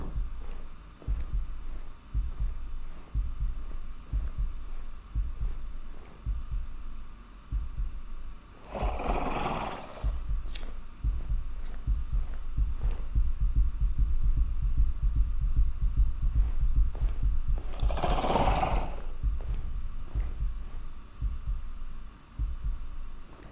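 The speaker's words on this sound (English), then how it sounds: "You hear the heartbeat, so he's right next to me." Video game heartbeat cue from Tainted Pools, signalling a nearby entity: a steady, low, throbbing double pulse repeating throughout, under a constant hum, with two brief noisy bursts.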